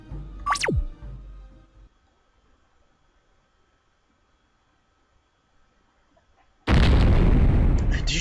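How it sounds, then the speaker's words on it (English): Explosion in the RPG Vacant Sky Contention: a sudden loud, wide burst after a long hush, preceded by a brief falling whoosh and a few faint drips. "Did you hear that? It sounded like an explosion."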